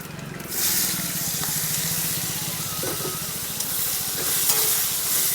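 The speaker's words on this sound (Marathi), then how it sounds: "तमालपत्र एकदम कडक तडका पडलेला आहे आता आपण देऊया आपण काढल्या टोमा टमाटो आणि कांदा" Chopped tomato and onion hit a hot, crackling tempering with bay leaf while bamboo shoot bhaji is being cooked, giving a loud, steady sizzle that fills the whole stretch, with occasional stirring scrapes and no talk.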